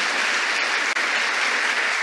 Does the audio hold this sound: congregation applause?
yes